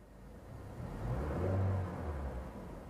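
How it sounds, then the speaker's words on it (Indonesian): A Honda Brio car engine revved while parked, a low steady idle rising into a brief swell of revving and then settling back, heard fairly faint and alone. "Kalau sudah hidup, kalian juga jangan lupa digas aja."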